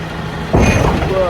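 A truck's engine idles while its trailer deck is lowered to load a tractor, a low steady rumble that turns into a sudden louder mechanical roar with a faint whine as the deck starts moving; someone speaks.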